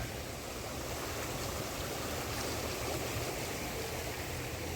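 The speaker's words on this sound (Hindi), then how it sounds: "पूरा मिट्टी मिट्टी वाला पानी आ रहा है" Muddy floodwater from heavy rain rushes and churns in a steady, loud roar in Haridwar, flowing continuously and close by without pause.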